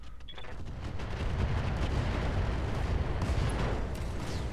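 Mech weapons firing at a target in the video game Roguetech, a dense continuous rumble of blasts and booms filling the whole clip at steady loudness.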